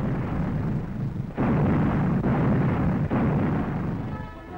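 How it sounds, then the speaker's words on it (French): British 25-pounder field artillery guns firing in wartime newsreel footage, heavy continuous booming and rumbling with a few sharp onsets, loud and dense, distant-sounding battlefield fire with no voices. "Un 25 Pounders en action. C'est cette pièce d'artillerie de campagne qui a fait merveille à El Alamein et en Tunisie"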